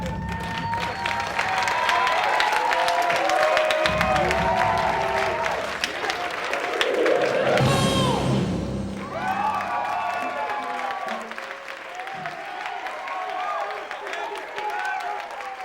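A crew on a music video set claps and cheers amid excited shouting and overlapping voices, a lively, loud mix of applause and chatter that thins toward the end.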